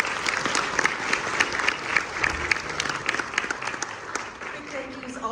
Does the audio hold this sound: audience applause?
yes